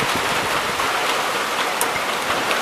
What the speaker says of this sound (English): Raining pretty good out there